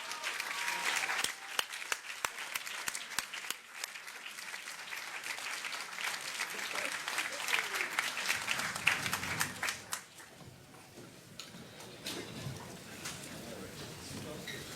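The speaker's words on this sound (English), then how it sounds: "let's give them one more round of applause" An audience claps at a news conference following the Curiosity rover landing on Mars, with sharp individual claps and steady applause that thins out after about ten seconds. Scattered voices and cheers mix in.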